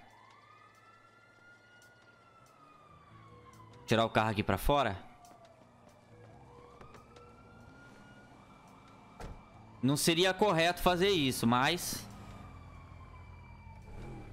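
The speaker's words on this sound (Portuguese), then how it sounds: "Nossa, sirene não" Two bursts of a police siren wail past in Grand Theft Auto V, loud and rising and falling, separated by a quieter stretch with an engine hum; someone talks over the gaps.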